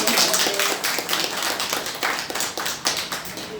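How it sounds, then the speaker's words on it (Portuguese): An audience claps steadily in a hall during a Mother's Day celebration, a dense patter of many hands sustained for several seconds at moderate volume. "Uma salva de palmas para vocês."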